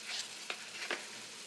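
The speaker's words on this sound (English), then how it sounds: "we're going to pour a 1/2 cup of beef broth in our skillet" Beef broth poured into a hot skillet with peppers and onions gives a soft, steady sizzle with a couple of brief scraping stirs, quiet and close.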